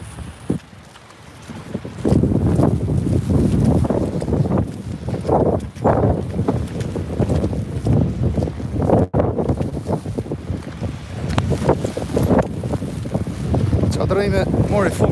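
Strong wind in a snowstorm buffets the microphone outdoors in Albania while someone walks into a headwind, producing loud, rough gusting roars that swell and ease almost without pause.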